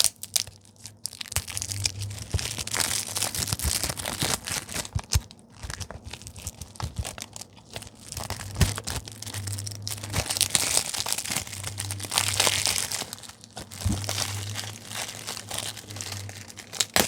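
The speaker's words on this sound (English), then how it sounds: "Okay, let's tear into this." Plastic wrapping on a Blu-ray package is torn and crumpled up close, with steady crinkling, sharp rips and crunchy bursts over about seventeen seconds, quiet and intimate with no speech.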